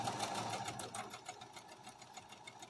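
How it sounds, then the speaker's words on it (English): A sewing machine runs at a quick, even pace while joining fabric scrap strips for a quilt, giving a faint, rhythmic whirring chatter that goes on with no voices. "we will just start sewing strips together, iron them flat, sewing another strip on"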